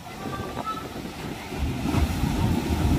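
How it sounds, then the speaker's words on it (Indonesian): Strong waves wash against a ship at Merak port in worsening weather, a low surging rumble with wind buffeting that swells louder partway through. "ombak kembali kencang guys"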